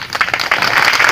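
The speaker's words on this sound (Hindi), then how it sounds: "नहीं, अभी ताली ना हो जाइए" An audience claps through a short burst of loud, dense applause during a speech by a member of parliament for Hamirpur-Mahoba.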